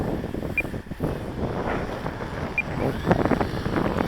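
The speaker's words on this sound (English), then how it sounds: "the wind is a little gusty too" Gusty wind buffets the microphone at an outdoor flying field for radio-controlled planes, a constant rough rushing that swells and eases in uneven gusts.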